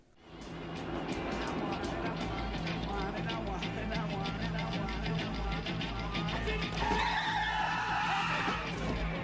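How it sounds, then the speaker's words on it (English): Car tires screech and skid in a near accident during a film scene, a sustained squeal over engine and street noise, rising into a harsher, higher whine near the end, with speech-like sounds mixed in. "Magic Bus by The Who plays as Henry almost gets into a car accident, indicating his state of intoxication"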